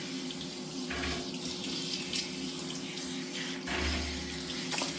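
Water runs steadily from a tap while a cat is bathed, splashing and hissing continuously, with occasional soft thumps and shifts in the flow.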